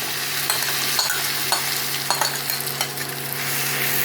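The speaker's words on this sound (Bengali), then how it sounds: "ভালো করে আমি মিশিয়ে নেব।" Gobindobhog rice and potato pieces fry in oil for a fish-head muri ghonto, with a close, steady sizzle and repeated scraping stirs at an uneven rhythm; no voices.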